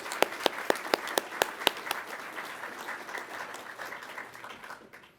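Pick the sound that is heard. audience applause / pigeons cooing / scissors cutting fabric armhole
audience applause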